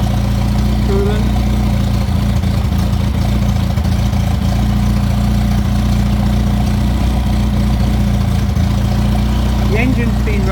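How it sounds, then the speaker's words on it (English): A Morris Marina 1.3 engine with gearbox idles hot on a test rig, a steady low rumble running continuously at close range with faint background noises. "The engine's been running for about half an hour now, so it's quite hot. Runs really well"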